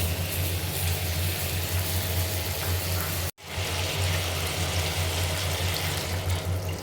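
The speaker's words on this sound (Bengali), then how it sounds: "জল দিলাম" Water pours steadily into a pot for fish curry, a continuous close splashing rush broken by one brief pause before the flow resumes.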